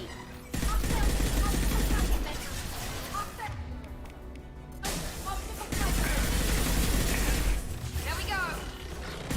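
Mass Effect 2 gunfire, with dense bursts of rapid shots and impacts in two long stretches separated by a brief lull, loud and close, and voices talking during the fight.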